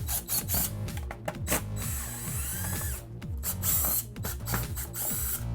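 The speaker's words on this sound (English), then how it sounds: "Remove the screws which secure the detergent distributor and rinse cap." A ratchet unscrewing dishwasher panel screws gives rapid, rhythmic metallic clicking close up, with repeated bursts of pawl ticks throughout and no voices.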